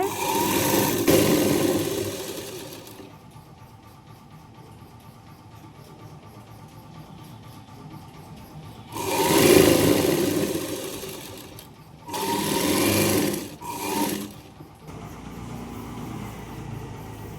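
A sewing machine runs straight stitches along the piping of a lined blouse in bursts, one long run at the start, then two shorter runs later, with quieter pauses between.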